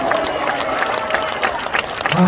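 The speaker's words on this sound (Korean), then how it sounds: "우리 황덕호 대표님께 큰 박수 부탁합니다." Steady applause from a crowd, dense and continuous clapping throughout, with a brief voice rising near the end.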